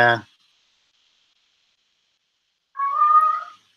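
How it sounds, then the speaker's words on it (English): A four-week-old kitten meows, one brief high cry at the start and then a longer, wavering meow a few seconds later, close by in an otherwise silent room. "You guys hear the cat?"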